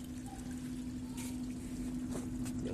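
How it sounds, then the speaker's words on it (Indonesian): Water in a hydroponic pump system trickles faintly through small pipes, a soft continuous liquid flow under a steady low pump hum, quiet and close. "dengan sistem pompa air mengalir"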